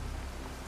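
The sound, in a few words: rain in The Witcher 3 video game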